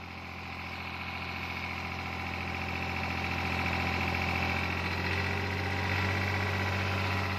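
A New Holland 4x4 tractor engine runs at 2000 RPM, a loud, steady diesel drone with a low hum that rises slightly as the revs build and then holds constant.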